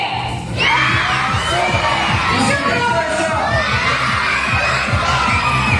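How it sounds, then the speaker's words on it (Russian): A large group of children shout a phrase together at a New Year school concert of a Tatar arts school in Semey, a loud sustained crowd yell lasting several seconds in a hall. "А теперь дружно крикнули «Я супер!»"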